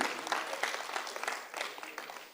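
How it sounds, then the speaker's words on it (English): An audience claps continuously at a Lagos-Calabar highway stakeholders' meeting, a dense patter of many hands that fades slightly, sounding somewhat distant. "Please keep clapping, keep clapping."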